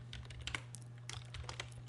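Quick keystrokes on a computer keyboard, a short burst of close, crisp clicks in an uneven rhythm over a low steady hum, with no one speaking.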